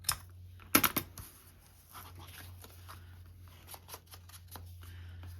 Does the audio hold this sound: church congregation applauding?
no